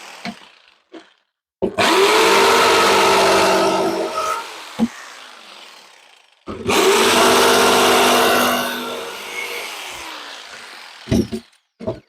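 A power tool cuts into wood for a homemade cold smoker in two loud sustained bursts, each starting abruptly and winding down, separated by quieter gaps with a few sharp knocks.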